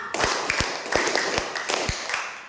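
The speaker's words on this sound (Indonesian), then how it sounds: "Tepuk 1, tepuk 2, tepuk 3, tepuk 4. Cepat bunyinya. Tepuk 5." A classroom of students claps a patterned rhythm, several sharp group claps in quick uneven clusters, close and lively with a busy room behind.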